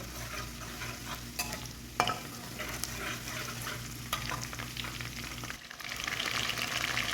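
Chicken frying in a pan for white sauce pasta, a steady sizzle broken by the scrape of stirring, with the sizzle growing louder toward the end.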